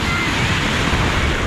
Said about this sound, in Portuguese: olha as ondas, gente, que vem